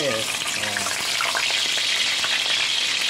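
Kikiam and a burger patty fry in hot oil with loud, dense crackling and spattering that runs continuously up close, a brief low murmur of voice near the start.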